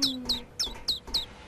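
Bird in the video game A New Beginning giving five short, bright chirps spaced at a steady rhythm, close and clear over a quiet background.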